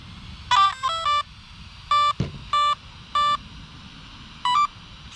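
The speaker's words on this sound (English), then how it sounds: "It's weird only hearing 3 beeps" An Arrma Vorteks 3S RC car's electronics give a series of clear electronic tone beeps at startup, short clustered chirps then evenly spaced single beeps over a low background hum.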